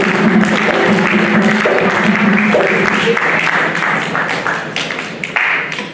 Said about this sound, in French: Applaudissez-le, applaudissez-le